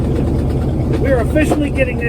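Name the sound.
Chevy square body truck engine running with no exhaust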